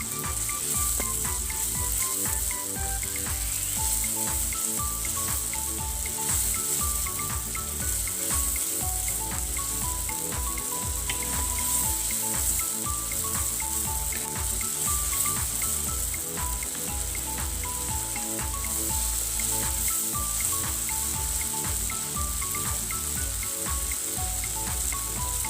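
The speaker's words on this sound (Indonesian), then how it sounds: "kemudian kita masukkan cabai yang udah tadi kita haluskan. Kita tumis bersama sisa bumbu tadi" Ground chili and spice paste sautéing in a pan for Curup-style Balinese beef, a steady close sizzle and crackle running continuously with faint stirring and no talk.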